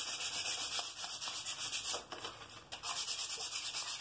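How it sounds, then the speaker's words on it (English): An axe handle sanded by hand with 220 grit sandpaper, giving steady, close rhythmic rasping strokes at low volume with a short pause near the middle. "So we'll clean that handle up nice, not too bad. Alright, sanded her up a little bit."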